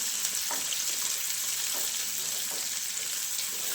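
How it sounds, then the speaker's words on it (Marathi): Sliced onion frying in oil in a pan, an even, continuous hiss of sizzling with faint intermittent stirring scrapes, close and steady, with no one talking. "कांदा चांगला गोल्डन ब्राऊन होईपर्यंत फ्राय करून घ्यायचा आहे."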